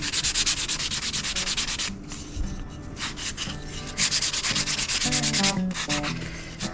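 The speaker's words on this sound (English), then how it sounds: "What I'm going to do now is just go over them with this 220." Wood pieces for a standing lamp hand-sanded with 220 grit sandpaper after drum sanding: loud, rapid back-and-forth scratchy strokes in bursts, with brief pauses and light knocks between passes.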